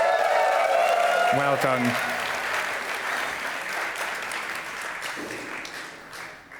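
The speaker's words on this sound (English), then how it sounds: "Give yourself a round of applause" Audience at a YMCA Europe opening evening claps in sustained broadband applause that starts loud and slowly fades over several seconds, with a brief spoken remark near the start.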